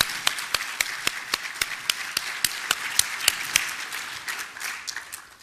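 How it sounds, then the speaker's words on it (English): Audience at a Boy Scout luncheon gives a steady round of applause, with distinct individual claps standing out over the continuous clapping until it tapers off near the end. "Let's give WTCI a round of applause for producing that."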